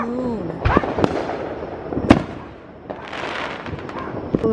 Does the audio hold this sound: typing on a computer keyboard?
no